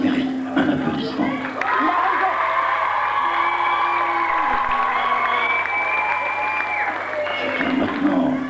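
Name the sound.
audience applause and cheering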